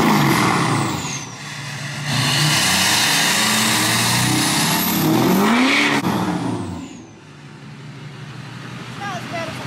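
A Duramax diesel pickup truck engine runs loud and close, revving and droning through rising and falling surges, with a brief hiss and a voice speaking underneath.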